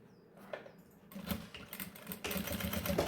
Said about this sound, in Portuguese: Eu ajeito aqui, coloco aqui, vou passar uma costura.